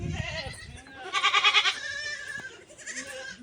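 A mother goat and her newborn kid bleat, several wavering cries close by, including one loud, trembling bleat in the middle, with a short rustle at the start and no talking.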